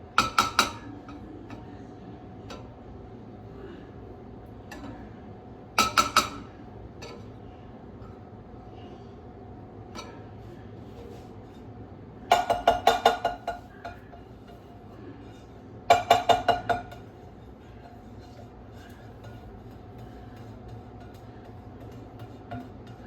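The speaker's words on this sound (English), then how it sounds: "Grab yourself a spatula and sift that butter around until it evenly coats the bottom of the pan." A spatula works butter around the bottom of a pan, giving four short clusters of metallic clinks and scrapes spread over a long, otherwise quiet stretch with a low steady hum underneath.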